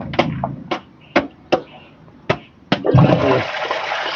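Water gushes and splashes out of a biofloc fish tank drainage system, a steady rushing flow that starts near the end after several sharp knocks and taps, with someone talking briefly earlier.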